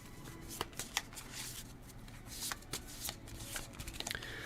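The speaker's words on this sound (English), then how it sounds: "and then shuffle" A deck of cards for the board game Eila and Something Shiny being shuffled close up, with a run of crisp riffling flutters and soft snaps over several seconds, no talking.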